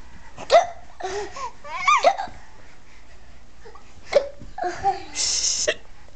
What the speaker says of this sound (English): Okay, can you hiccup?